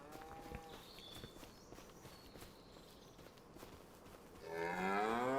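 Cattle mill about a pen in Farming Simulator 25, footsteps shuffling over ground before a loud, close, drawn-out moo swells near the end.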